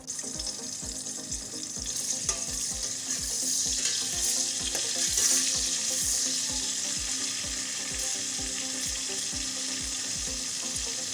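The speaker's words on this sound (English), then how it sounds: "Okay, so I'm adding my onion." Steady loud sizzling of onions frying in a pot for vegetable stew, with a regular low thumping underneath throughout and no voices.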